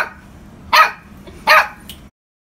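A puppy barks twice, sharp and close, with a fainter short yip near the end and quiet room background between the barks.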